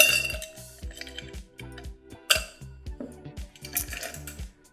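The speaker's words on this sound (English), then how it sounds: "We're gonna wanna put a couple ice cubes in there." Ice cubes are dropped into a cocktail shaker for a bourbon cocktail, a quick series of sharp clinks and clatters, several distinct hits in an irregular rhythm, close and fairly quiet.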